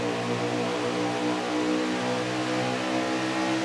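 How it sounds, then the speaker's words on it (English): Race cars in an Xfinity racing video game accelerate at Charlotte Motor Speedway, giving a steady, loud, continuous engine drone with layered tones holding throughout and no talk. "Green flag in the air, underway at Charlotte Motor Speedway."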